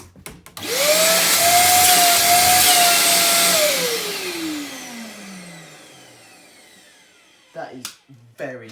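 A B&Q Performance Power wet and dry vacuum cleaner switches on with a loud whine, runs steadily for about three seconds, then powers down with a falling tone that fades out, followed by a few brief knocks.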